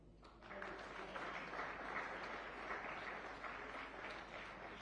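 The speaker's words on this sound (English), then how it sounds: "Amidst a resonating applause." Audience applauds steadily as the Governor is felicitated with a shawl at an official state formation day function, a dense, continuous wash of clapping sustained for several seconds with no speech over it.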